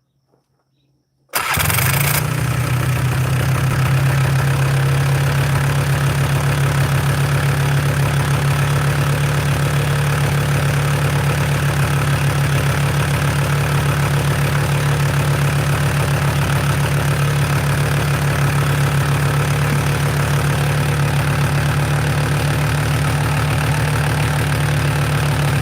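A four-wheeler ATV engine, its carburetor idle screw freshly adjusted, starts after a brief quiet moment and settles into a steady, loud, even idle rumble that runs unchanged for the rest of the clip, with no voices.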